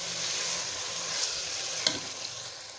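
Chana and maash dal roast in a hot pan with a steady, even sizzle and faint crackle, a single sharper stirring scrape near the end, heard up close with no voices.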